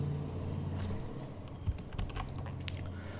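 Keys on a computer keyboard clatter as a command is typed at a project's root directory, a quiet, irregular run of close clicks and taps with no talking.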